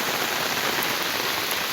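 Heavy rain falls in Jaffna, a thick, unbroken wash of drops pattering on surfaces, close and steady with no voices.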